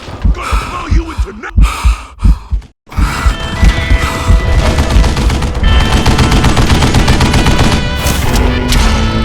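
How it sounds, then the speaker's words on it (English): A Gatling gun rattles off long, dense bursts in Call of Juarez Gunslinger on Xbox 360, after a few sharp gasping sounds and a brief pause. The loud, continuous fire keeps going to the end. "Kid Curry opened up on me with a goddamn Gatling gun"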